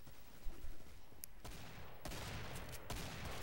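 Shotgun blasts in the video game Killing Floor, several sharp reports spaced about a second apart over steady background game noise, with no talk.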